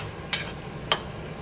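A spoon stirs food in a cooking pot, giving two short, bright scraping clinks about half a second apart over a quiet background hum.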